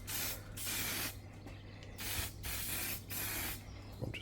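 Powder coat sprayed onto 13B rotary engine parts: a continuous close hissing spray in several bursts with brief dips between passes, no speech over it.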